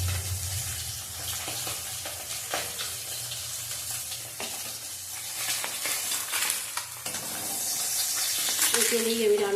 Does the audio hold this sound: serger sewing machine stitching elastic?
no